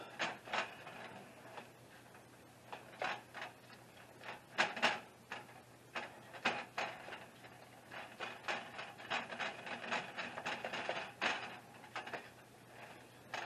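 Ground meat for shepherd's pie browns in a pan while being broken up, with soft irregular scrapes, taps and rustles over a faint background sizzle.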